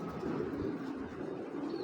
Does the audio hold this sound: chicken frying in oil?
no